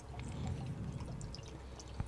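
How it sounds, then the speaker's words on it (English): A dram of whisky poured into a glass, a soft, quiet liquid gurgle and trickle close by, with a small clink near the end. "I'm going to pour you a dram."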